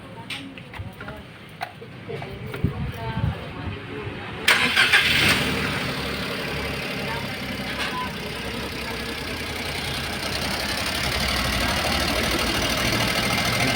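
A car engine fitted with a fuel combustor cranks and catches, then settles into a steady idle that holds for the rest of the clip, close by, with brief talk near the start.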